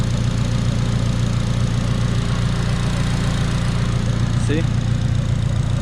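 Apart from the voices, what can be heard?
Acura RSX Type S engine idling on TSX alternator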